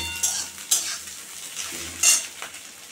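Onion and green chilies frying in a lentil tempering for masoor dal, a steady soft sizzle broken by a few sharp clinks and scrapes of a utensil stirring in the pan.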